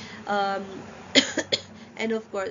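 A few short, dry coughs come in quick succession between stretches of quiet talking, close to the mic.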